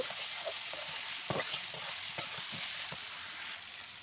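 Fried pointed gourd and potato are stirred through spices in a pan over a wood fire. A low, steady sizzle sits under repeated sharp scrapes and clacks of the spoon at an uneven rhythm.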